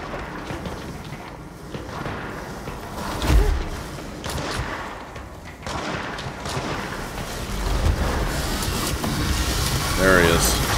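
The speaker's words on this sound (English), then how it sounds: "Gunfire." Gunfire in the video game Control, a few sharp shots and thumps mixed into a steady game soundscape, with heavier bursts near the end.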